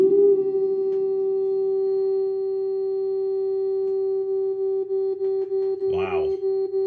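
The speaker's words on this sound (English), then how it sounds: "let's take a look at the onboard vibrato. We're going to bring this up to 400 hertz" A steady 400 Hz test tone played through the onboard vibrato of a Fender Vibro-King amp, holding a constant pitch with a pulsing wobble growing toward the end, briefly interrupted by a short swept burst.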